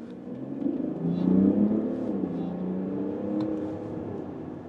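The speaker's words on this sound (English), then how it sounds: "I like the sound of the engine, I must say. I like this diesel." A Mercedes GLE SUV's straight-six diesel accelerates hard in sport mode. The engine note rises and swells steadily, heard from inside the cabin with no talk over it.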